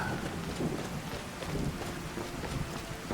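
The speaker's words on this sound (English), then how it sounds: "actually love the rain." Steady rain with rolling thunder in the video game Skyrim: a continuous, dense wash of rainfall under low rumbling, loud and unbroken throughout, with no speech.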